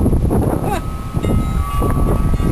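Gusty wind buffeting the microphone in a grove, a low roar with scattered rustles and a brief faint voice over it.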